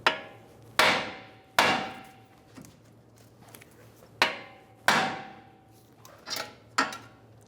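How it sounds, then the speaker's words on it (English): A hammer strikes the steering knuckle of a 2007-2011 Toyota Camry to free the outer tie rod stud, ringing out as about eight loud, sharp metallic blows at irregular intervals, each decaying quickly, with no talking. "Use a hammer, hit the side of right here, and we'll release the tension"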